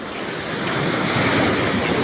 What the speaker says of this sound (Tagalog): Dito tayo sa tabing dagat. Tayo nanonood ng alon